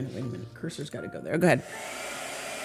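A blow dryer hums in the background while a person talks over it. After the talking stops, the steady airy rush continues alone at moderate loudness.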